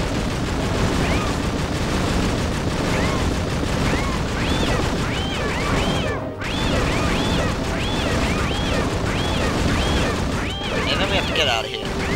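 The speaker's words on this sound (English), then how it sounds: "we're just going to go and shoot Viggo in the face with some meerkats" Gunfire from a meerkat-firing gun in the video game Fur Fighters during a boss fight against Viggo, a dense, continuous barrage of rapid shots and crashes with repeated chirpy squeaks over it.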